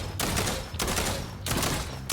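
Repeated shotgun blasts in Fortnite Save the World, three or four loud bursts in quick succession with short gaps, no talk over them.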